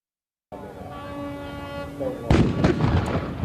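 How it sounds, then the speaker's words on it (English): A long, tonal horn-like sound is followed by a loud booming cannon blast and rumbling aftermath during a parade of tall sailing ships in Virginia, fairly close, with no talking. "Another cannon just went off"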